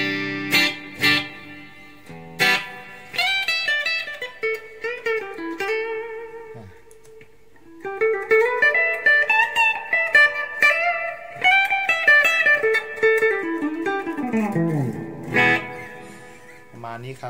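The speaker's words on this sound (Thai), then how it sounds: "ต่อไปตัดซิงค์คอยนะฮะแบบที่ผมบอกคือเสียงมันดรอปลงไปเยอะเลย" A clean electric guitar with its humbucker coil-split plays chords and melodic runs up close, bright and fairly thin in tone, with short pauses between phrases. Mexican-made Fender Deluxe HSS.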